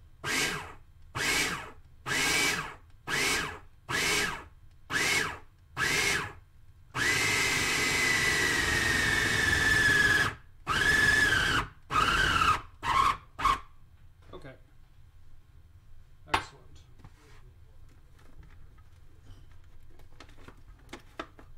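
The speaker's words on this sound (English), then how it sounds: "And then the liquid over the dough as you pulse the machine," Food processor pulsing moist pie crust dough, a rapid series of short motor bursts followed by one long continuous whir and a few more brief pulses, loud and close, fading to quiet handling noise at the end.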